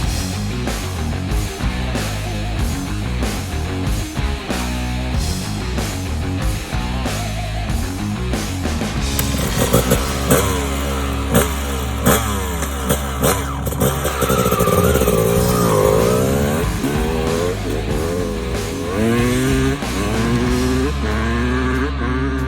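A restored Honda CR250 two-stroke dirt bike engine running loud and close, with rapid rhythmic revving that rises and falls, sharp throttle blips and a buzzing, raspy exhaust note throughout.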